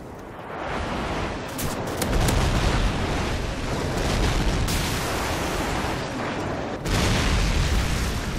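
Heavy airstrike explosions in a multiplayer shooter game's Domination match on the map Bog: dense, continuous booming blasts rolling over each other for several seconds, loud and close, with fresh impacts hitting around the two- and seven-second marks.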